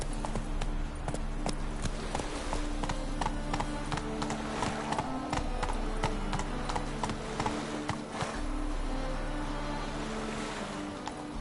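The horse Roach galloping in The Witcher 3, a steady rhythmic clip-clop of hooves over a constant rushing, windy background, moderately loud and without speech.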